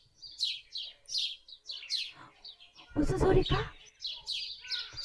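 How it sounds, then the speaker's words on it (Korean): Recorded bird song plays during a children's worship sermon, a close series of bright, repeated chirps and tweets. A voice briefly cuts in partway through, then the chirping resumes. "새들이 지저귀는 소리 같아요"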